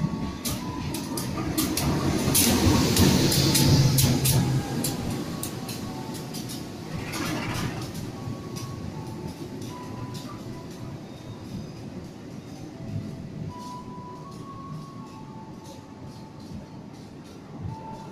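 A CC 201 diesel locomotive train at a railway station, heard as a steady rumble with clanking and rail noise that swells early on and then settles into a continuous hum.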